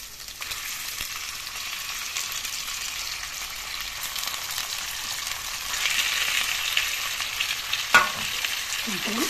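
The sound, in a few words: chicken frying with browned onions in a pan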